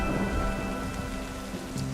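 Rain falls steadily on a cool cloud forest mountain top, a constant hissing patter with a faint low hum underneath and no voices.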